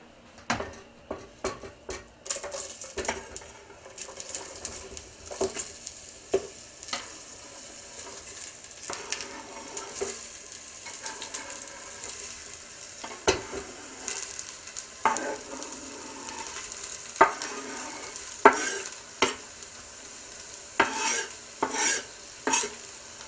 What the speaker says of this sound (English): I'm going to put 3/4 of a cup of olive oil in this pot, and I'm going to add all of my onions